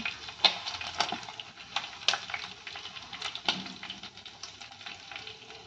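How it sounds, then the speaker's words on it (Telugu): Chicken pieces fry golden brown in a pan, with a soft continuous sizzle broken by sharp crackles and spatters at irregular moments. "ఇలా రెండు వైపులా బాగా గోల్డెన్ బ్రౌన్ వచ్చిన తర్వాత వేరే ప్లేట్లోకి తీసేసుకుందాం"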